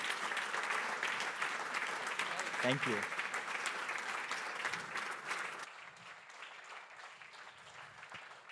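Audience applause for a speaker at a Speck&Tech tech talk, sustained broadband clapping for about five and a half seconds with a brief spoken thanks, then fading to quieter room sound and faint talk.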